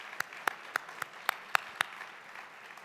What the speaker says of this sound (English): let's give Mike another round of applause as he's leaving